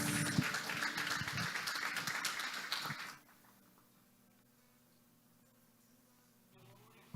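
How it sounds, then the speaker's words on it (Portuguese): A congregation at a Friday evening church service applauds with dense, lively clapping for about three seconds, then the sound cuts off abruptly into a quiet room hum. "Aplauda o Senhor"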